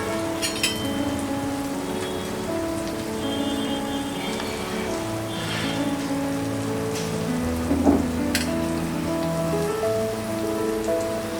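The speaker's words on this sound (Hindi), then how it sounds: "लो फ्लेम में फ्राई करेंगे।" Cauliflower and peas with spices frying in a pan on a low gas flame make a steady, soft crackling sizzle with faint scattered pops, close and continuous without any talk.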